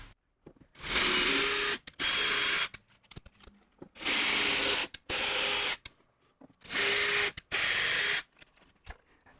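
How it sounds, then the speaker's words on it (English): A handheld electric drill driving a thread-forming tap, likely into aluminum, in six short high-pitched whirring bursts of about a second each, paired in rhythm with brief quiet gaps between. "I'm using a thread-forming tap, which is much stronger than a traditional tap"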